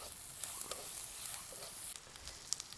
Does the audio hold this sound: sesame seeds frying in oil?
yes